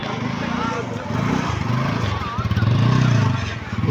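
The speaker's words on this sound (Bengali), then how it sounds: "বাইকের সাউন্ডও কিন্তু মোটামুটি ভালো আছে" A used motorcycle engine runs with a steady low throb at an outdoor second-hand bike market in Joypurhat, with crowd chatter and voices mixed in throughout.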